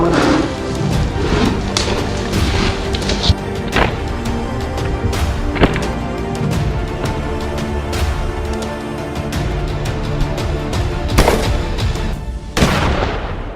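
Rifle fire while hunting invasive wild boar on a Texas farm: loud, sharp cracks recur over a dense ongoing din, with especially strong reports standing out near the end.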